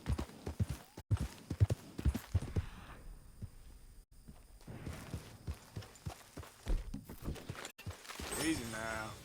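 Hooves of a horse in the game Red Dead Redemption 2 clip-clop in an uneven walking rhythm, fairly close and moderately loud, with brief pauses and a rustling swell near the end.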